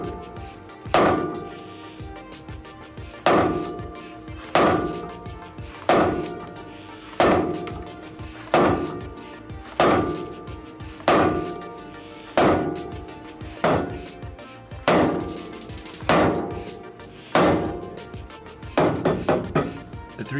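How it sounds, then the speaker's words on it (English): A 3-pound dead blow hammer strikes the suspension of a 1996 Honda Civic during CV drive axle replacement, about a dozen heavy metallic thuds at a slow, even pace, then a quick flurry of lighter taps at the end, close and alone. "The 3-pound dead blow hammer is a great tool for suspension work."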